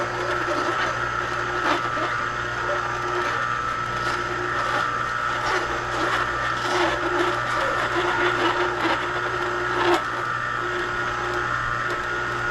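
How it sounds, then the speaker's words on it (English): Hurom juicer motor running steadily while kale is juiced, a constant mechanical hum with a low tonal drone and faint grinding, close and even throughout. "Let's turn the motor on here."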